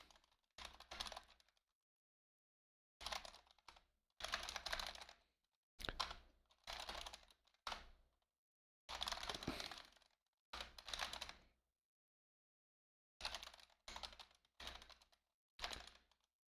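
Code being typed on a computer keyboard: rapid bursts of close key clatter separated by silent pauses, with no voice over it.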